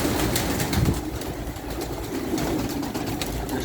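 Pigeons housed in a loft room raised for meat, French breed, coo softly and intermittently over a low, steady background rumble.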